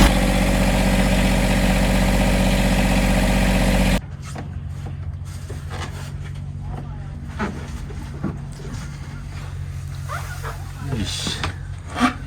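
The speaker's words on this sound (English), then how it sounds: "Run this a little while the oil heats up so that I can change the oil." Sailboat engine idling steadily for the first four seconds while its oil warms up for an oil change, then cutting to quieter background with scattered small clicks and rustles.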